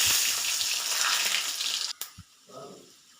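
Garlic cloves and mustard seeds sizzle loudly in hot oil for an onion curry, a steady broadband crackle that cuts off sharply near the end, followed by a brief clatter and a short quieter hiss.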